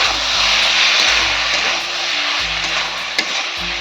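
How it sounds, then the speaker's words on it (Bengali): Tomatoes frying over a high gas flame, a steady loud broadband sizzle with a low roaring hum running underneath, close and continuous with no talk. "টমেটোগুলো দিয়ে দেবো দিয়ে গ্যাসটা আমি জোরেই দিয়ে আমি ভালো করে কষাবো"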